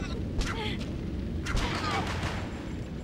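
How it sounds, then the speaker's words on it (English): A gunman in the survival horror game Forbidden Siren 2 shoots at a group of Yamibitos. Two bursts of gunfire sound in quick succession at a middle distance, over a constant low ambient rumble. "That is the sound of the guy with the gun that was at the stairs, shooting at a bunch of Yamibitos"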